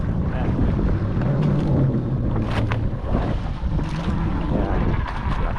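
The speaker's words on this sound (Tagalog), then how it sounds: "Hangin pero mahina lang" Light wind buffets the microphone with a low, constant rumble over open sea during hand-line fishing, and faint voices come through now and then.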